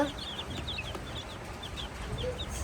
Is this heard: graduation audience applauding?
no